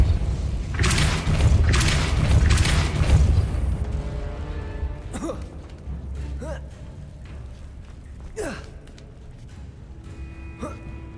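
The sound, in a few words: Depulso spell impact in video game Hogwarts Legacy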